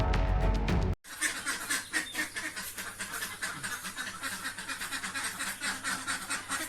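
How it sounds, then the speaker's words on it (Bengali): Cartoon ducks quack in a rapid, continuous stream of nasal calls, close and fairly loud, following a brief tonal sound at the very start. "মা, আমি হাঁসের ডাক শুনেছি। হাঁসের ডাক শুনে মনে হলো আমাদের হাঁস।"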